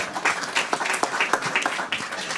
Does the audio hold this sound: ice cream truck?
no